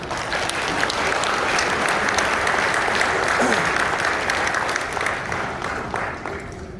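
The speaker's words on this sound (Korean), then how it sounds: "이영우 교수님을 큰 박수로 모시겠습니다" Steady audience applause at a national church elders' conference, many hands clapping loudly and evenly for several seconds, tapering slightly at the end.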